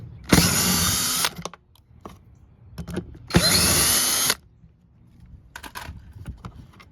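A power drill spins out the 8mm screws holding a Honda Pilot fog light in two loud, steady bursts of about a second each, separated by a pause with faint handling clicks.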